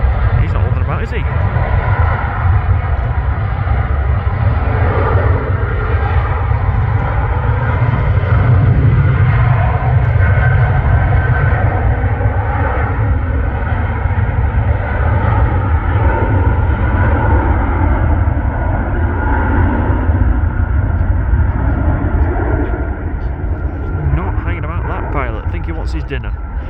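A British Airways airliner takes off at Manchester Airport, a loud, sustained roar of jet engines that stays strong and broad throughout, heard from a viewing park with people talking over it.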